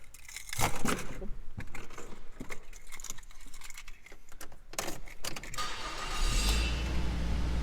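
A 2009 Mazda3 i Touring with 138,000 miles starts up: keys jingle and rustle close by for several seconds, then the engine fires and holds a steady low idle.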